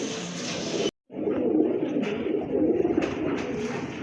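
A pair of pigeons coo close by in repeated throaty, rolling calls, loud and clear with a brief gap near the start.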